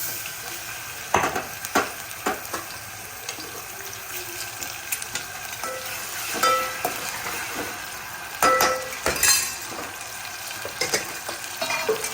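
Oil heating and frying in a pan on a gas stove, a steady soft sizzle with scattered clinks and stirring scrapes of utensils, nearby and moderately quiet, with no talking.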